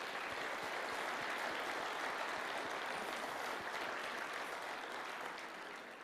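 Sustained applause from a Sunday church congregation honoring its oldest members, a dense, even wash of many hands clapping at steady volume, tapering slightly at the close.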